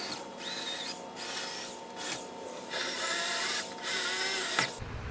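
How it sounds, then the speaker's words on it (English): A power drill bores holes into a wall to mount a bike rack, its motor whining in several separate bursts with short pauses between them, up close and loud with no talk. "I can take my drill and attack this now"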